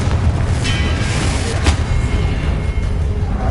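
A Confringo blasting spell goes off in Hogwarts Legacy, a brief loud boom rising out of a steady, rumbling roar of combat, with no voices heard.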